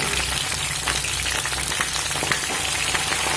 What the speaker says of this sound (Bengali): পরিমাণ মতো লবণ দিয়ে ফুলকপিটা ভেজে নেব